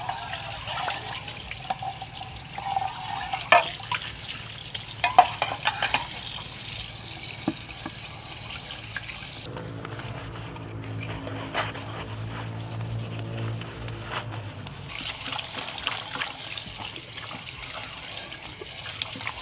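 Dishes being washed by hand outdoors at a seaside campsite, with water trickling and dribbling alongside rubbing and occasional clinks, steady and close throughout with no talk.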